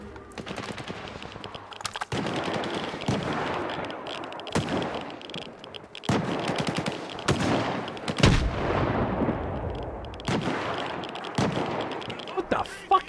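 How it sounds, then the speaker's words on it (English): Bursts of gunfire in the video game Metro 2033 Redux, sharp repeated shots and rapid automatic volleys spaced across the whole stretch, loud and close with a rattling rhythm. "What the fuck did you just shoot me with?"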